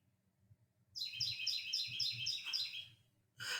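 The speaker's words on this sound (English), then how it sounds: "That bird is so loud." A loud bird chirps outside in quick repeated bursts of high tweets, then calls again after a short pause, with low background rumble beneath.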